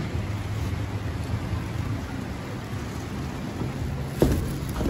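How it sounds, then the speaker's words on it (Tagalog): Heavy rain pours down outdoors in a steady, dense hiss that fills the whole stretch, with a brief sharp knock near the end and no voices. "Putang na malakas ulan dito sa atin par."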